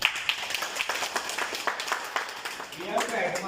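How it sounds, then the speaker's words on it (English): A small audience claps together in a quick, scattered patter that stays fairly faint. "So I think that we have to clap for him."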